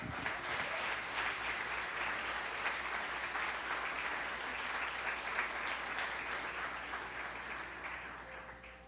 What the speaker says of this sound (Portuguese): Se expresse com um aplauso, ele merece.